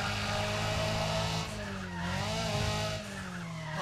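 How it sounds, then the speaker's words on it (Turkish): Tires squeal and skid as a race car slides through a turn in Need For Speed ProStreet, a loud sustained screech over a droning engine, rising and falling across several seconds. "Güzel teker kaydırdı orada."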